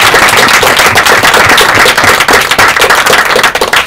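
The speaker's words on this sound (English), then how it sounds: "they deserve a huge round of applause" A crowd applauds loudly, dense clapping sustained throughout with no pause.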